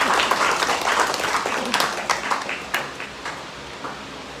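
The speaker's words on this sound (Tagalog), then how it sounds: "Ito ang palakpak lang sa Diyos." A church congregation claps during a Sunday worship service, a dense burst of applause that gradually thins into scattered claps over a few seconds.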